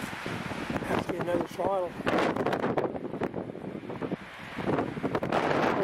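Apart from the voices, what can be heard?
strong gusting wind outdoors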